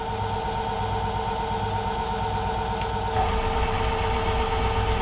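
A bandsaw running in gear on a slow feed gives a steady, loud mechanical drone with constant hum and faint rattle, unchanging throughout with no voices.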